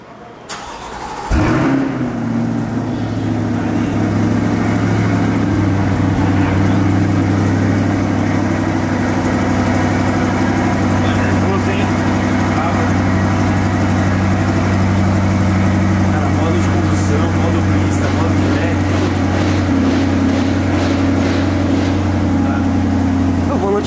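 A Ferrari engine fires up with a sharp burst, then settles into a steady, deep idle that drones on loudly for the rest of the clip while people talk nearby.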